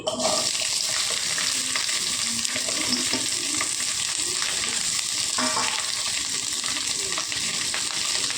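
Okra, onions and green chillies fry in oil for an okra buttermilk stew, giving a loud, steady sizzle that runs unbroken from start to finish with no talking.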